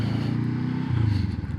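A 2023 Honda CL500 Scrambler motorcycle engine idles with a low, steady, pulsing chug at close range.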